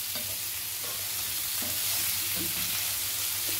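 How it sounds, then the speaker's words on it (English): Rice-flour-coated stuffed brinjals sautéing over a medium flame, giving a steady close sizzle with light stirring scrapes throughout. "now we'll slowly be sauteing them till the brinjal also turns golden"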